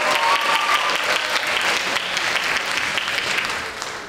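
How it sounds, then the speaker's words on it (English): Pageant audience breaks into steady, dense applause for young lady contestants, loud and continuous throughout with a faint whistle or cheer early on, easing slightly at the close. "a big round of applause for these very, very talented young ladies."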